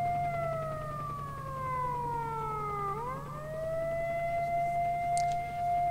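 A wailing alarm siren in S.T.A.L.K.E.R.: Shadow of Chernobyl with a steady tone that slides down and then climbs back up, loud and continuous over a low constant hum.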